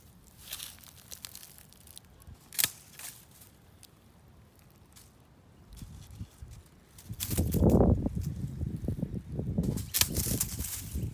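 Pruning shears cut through a rose stem while damask and New Dawn roses are trimmed outdoors. A single sharp snip comes early, followed later by a louder stretch of crackling and rustling from branches and foliage close by.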